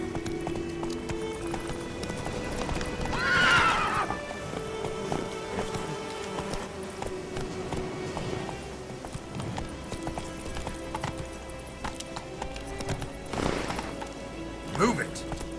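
A horse gallops with rapid, rhythmic clip-clop hoofbeats and lets out brief neighs in The Witcher 3, over a continuous game soundscape with a voice speaking.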